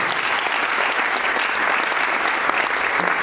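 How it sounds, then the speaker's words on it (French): A conference audience gives renewed applause in thanks for support of a disability mobility grant scheme. The clapping is loud, dense and continuous from many hands throughout, with no voices standing out. "j'ai noté les applaudissements qu'on va renouveler pour le soutien dont vous nous donnez"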